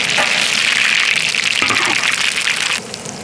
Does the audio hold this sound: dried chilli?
yes